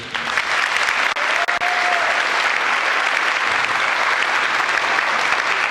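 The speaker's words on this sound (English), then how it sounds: "Big round of applause for PG&E." A crowd at a community meeting in Lower Lake, California, after the Valley Fire claps steadily and loudly throughout, a sustained round of applause with no pauses.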